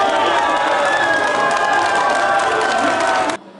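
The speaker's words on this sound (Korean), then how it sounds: "방송사 출구조사에서 이재명 후보의 당선이 예측되자 환호성이 쏟아집니다" A gathered crowd of citizens bursts into loud cheering and shouting as an exit poll predicts a presidential election win, a dense, continuous roar that cuts off abruptly near the end.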